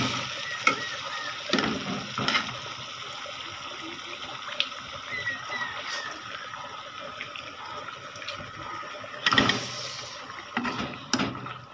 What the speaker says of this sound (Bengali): এই তো মশলাটা কষানো শেষ, আমি মাছগুলি দিয়ে দিচ্ছি।